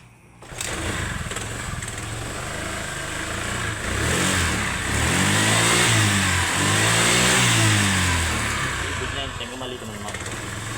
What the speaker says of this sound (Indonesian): Ini contohnya Vario, ini seperti ini hidupnya.